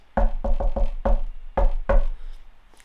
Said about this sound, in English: This is the secret knock, guys.